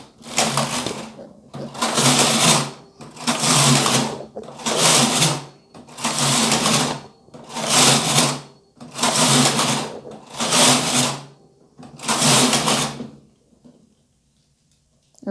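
A punch card knitting machine working two-color Fair Isle rows, its carriage sliding back and forth in eight loud, evenly spaced mechanical sweeps, each a rattling whir, ending in quiet.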